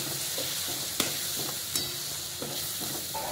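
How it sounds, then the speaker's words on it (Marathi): Coriander powder, cumin powder and asafoetida sauté with softened tomato for a cauliflower curry, a constant close sizzle broken by spoon scrapes and light taps on the pan. "आता ह्यामध्ये धने पावडर, जिरा पावडर आणि हिंग टाकून परतून घ्यायचं आहे।"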